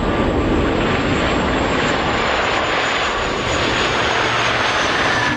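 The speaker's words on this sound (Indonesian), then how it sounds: "Ini pesawat kargo." A cargo airplane's engines roar loudly and steadily throughout, a continuous broad drone with no pauses.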